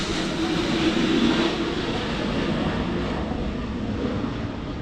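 Broad, steady roar of a plane passing overhead, loud and continuous throughout with a slight swell early on, heard alone with no talk.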